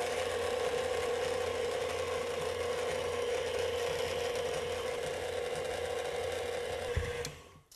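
An electric mixer churns soft gooey butter cake dough with eggs and flour, a steady close mechanical whir and rattle that runs unbroken, then winds down and stops near the end.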